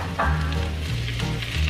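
Blanched spinach sizzles in about a teaspoon of sesame oil in a pan, giving a steady close frying hiss under a low hum.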